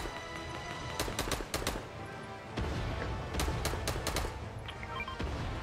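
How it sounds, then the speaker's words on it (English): A bot fires guns in a Fortnite match, with quick bursts of sharp, cracking shots in clustered volleys and brief pauses between them, heard fairly close with no talking over it. "Someone's shooting at me, but I know it's a bot because they're shooting me through a tree"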